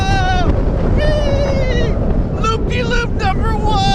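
Olympia Looping roller coaster ride, a constant rush of wind and track roar up close, with riders shouting and screaming over it throughout.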